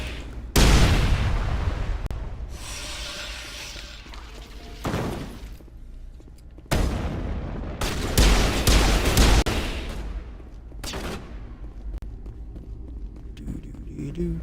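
Enemy gunfire in Mass Effect Legendary Edition, loud bursts of shots and booming impacts arriving in several waves with gaps between, under occasional talk from a player.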